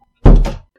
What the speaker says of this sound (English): closing the door behind him